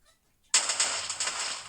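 A TNT block detonates in the Minecraft video game: after a near-silent pause, a sudden loud blast bursts in and rumbles on with crackling, rapid repeated pops, heard alone without talk.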